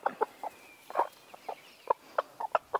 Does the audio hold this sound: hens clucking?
yes